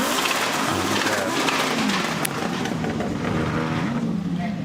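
Audi Quattro S1 E2 Group B rally car idling and revving on the start line of a forest rally stage, a loud, steady engine drone with fluctuating pitch and broadband crowd and outdoor noise around it.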